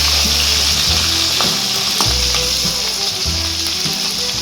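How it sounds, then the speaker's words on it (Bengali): Potato and tomato fry in hot oil with a steady, loud, close sizzle, broken by a few soft stirring knocks; no voices. "এই আলুর সাথে টমেটোটাকেও এরকম করে ভেজে নেবো।"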